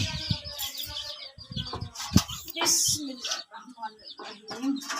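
Small birds feeding in a corner of a village house, quick bright chirps and fluttering wing flaps close by, with people talking over them.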